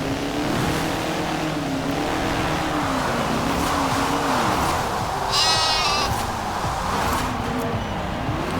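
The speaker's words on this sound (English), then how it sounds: "the sheep horn fits perfectly with this car" A sheep-bleat car horn on a front-wheel-drive Citroen in a driving game sounds repeatedly in wavering bleats over the steady drone of the small stock engine, with a brief higher burst near the end.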